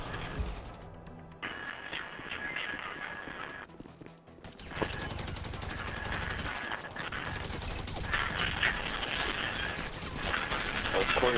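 Gunfire in a team shooter video game, mechanical ratcheting bursts and rapid clattering shots running through the whole stretch, fairly steady and moderately loud with a brief lull near the middle.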